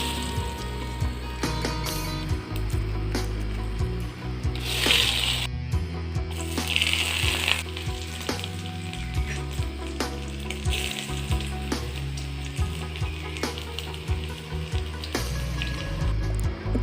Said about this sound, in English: Now after heating the oil, we will add 1 tablespoon sugar, and then we will add all the ingredients one after another.